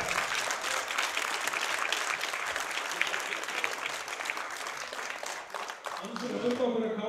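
Audience applause at a deadlift powerlifting championship, a steady wash of many hands clapping that fades near the end as a speaker's voice takes over.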